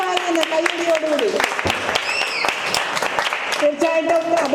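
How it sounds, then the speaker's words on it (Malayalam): Audience applause welcoming an MLA at a school's 110th anniversary celebration, heard as dense, steady clapping throughout, with strong tonal music or voices running over it at the start and end. "അദ്ദേഹത്തെ ഹാർദമായി സ്വാഗതം കൈയടിയോടുകൂടി"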